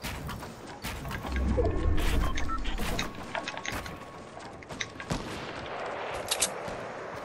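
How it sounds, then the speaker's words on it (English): Gunfire crackles in a string of sharp bursts of varying loudness over a rumbling background, dense and heavy early on, then thinning into scattered shots with no speech. "They are shooting right now."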